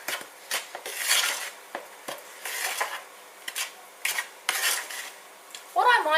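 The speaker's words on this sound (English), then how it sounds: "And then we just mix that in as well." A utensil stirs salt and pepper into a chicken mixture in a bowl, giving repeated scraping, rubbing strokes in an irregular rhythm, close and clear, with a brief clink near the end.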